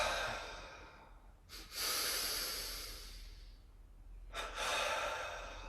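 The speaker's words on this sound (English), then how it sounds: "Double exhale, release." Two sharp, forceful double exhales through the nose during a breathing exercise, each a quick paired burst of breath followed by a longer trailing release, close and clear against a quiet room.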